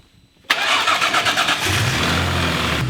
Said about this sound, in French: Voilà le petit 3 litres V6.